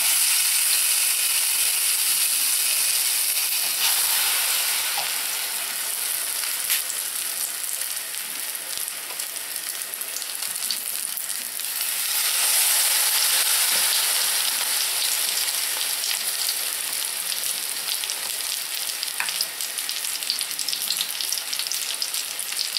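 Zucchini pieces with garlic in batter fry in a pan, a steady bright sizzle and crackle of hot oil, close and continuous with slight swells in intensity and no talking.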